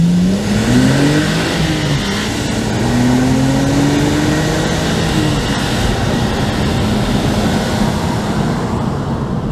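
A Toyota Blade hatchback with a 2GR V6 engine accelerates hard in a straight line, its loud engine note rising steadily through the gears with a rushing road and wind roar underneath.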